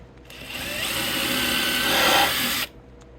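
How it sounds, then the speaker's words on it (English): Power drill pre-drilling the four corners of a yellow birch tree swallow nest box, one continuous close, loud whirring run of about two and a half seconds that rises slightly in pitch before cutting off abruptly. "So pre-drill 4 corners."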